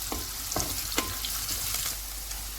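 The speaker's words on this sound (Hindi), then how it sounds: "प्याज को हमने गोल्डन फ्राई करना है।" Onions frying in hot oil in a pan for chicken kabab karahi, a steady close sizzle broken by several sharp stirring scrapes and clicks, with no talk.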